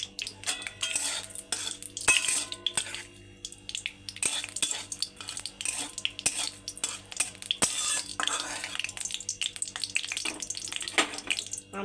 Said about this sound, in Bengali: একটা শুকনো লঙ্কা ফোড়ন দিলাম।